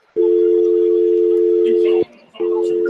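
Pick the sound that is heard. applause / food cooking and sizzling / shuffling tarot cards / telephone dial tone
telephone dial tone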